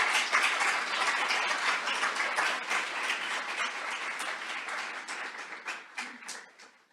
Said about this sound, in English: So tonight, let's just really quickly give a round of applause for Harry Mark Petrakis, Lisel Mueller, Bell